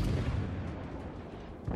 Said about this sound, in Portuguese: Agora eu posso mandar a bala nele